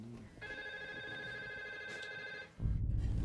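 A telephone rings at an air ambulance base, a steady electronic ring with bright stacked tones lasting a couple of seconds, then cut off by louder background noise at the end.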